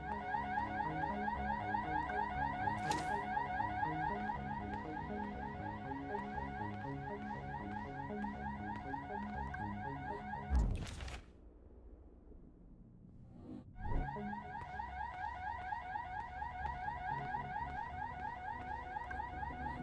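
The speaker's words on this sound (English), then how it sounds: "Is that the alarm?" Alarm sounding in the video game Dustborn, a loud repeating electronic wail with a fast regular pulse that cuts out for a few seconds after a sharp crash, then starts again at full strength.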